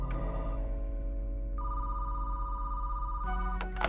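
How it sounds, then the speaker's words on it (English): An old-fashioned telephone bell rings in sharp bursts with a steady electronic tone between them, clear and fairly quiet, heard alone. "Until a final mysterious phone call is made, over 50 years later."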